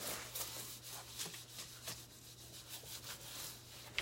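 Epoxy being smoothed down by hand across a wooden countertop, giving soft, repeated rubbing strokes in a steady back-and-forth rhythm, close and fairly quiet over a constant low hum.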